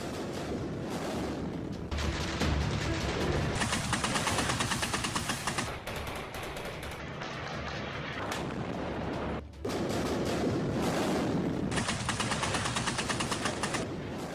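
Gunfire and artillery rumble in the Syrian war near Aleppo, with sustained loud bursts of shooting and heavy booms in long dense stretches and a brief drop near the middle.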